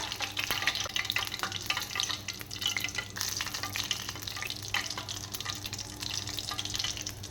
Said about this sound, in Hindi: देंगे तड़का इसमें